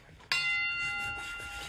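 A single sharp strike of a boxing ring bell rings out, its bright metallic tone sustaining and slowly fading over a quiet background.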